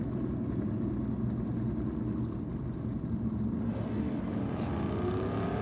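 Big block Chevy Camaro with a 632-cubic-inch engine drag racing a 1978 Holden ute with a 355 Holden motor, a steady loud engine roar filling the whole stretch with rising revs near the end.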